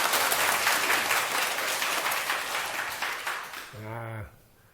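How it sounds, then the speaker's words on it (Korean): An audience in a lecture hall claps loudly and steadily, the applause thinning toward the end before a short sung or voiced tone cuts in as the clapping stops. "박수 한번 부탁드릴게요."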